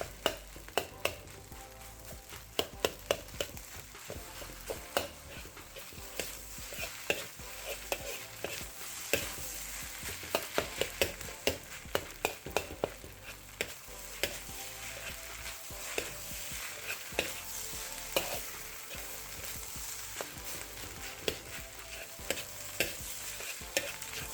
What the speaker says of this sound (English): Let's give that a nice stir.